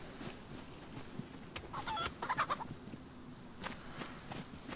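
Chicken clucking in the video game DayZ, a few bursts of quick clucks and squawks, quiet and somewhat distant, with brief clicks around them.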